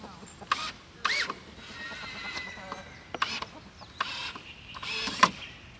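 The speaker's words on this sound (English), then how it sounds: "There's a rooster out too, by the way." Rooster clucking and calling outdoors among goats, several short bursts at moderate distance with other farm animal sounds and a light background hiss.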